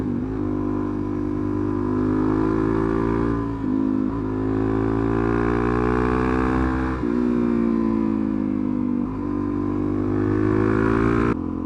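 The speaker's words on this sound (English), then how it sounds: "This is the bike that I'm on" Motorcycle engine droning steadily and close while riding a twisty country road in the UK, its pitch rising and falling with gear changes around 4 and 7 seconds, with continuous wind rumble underneath.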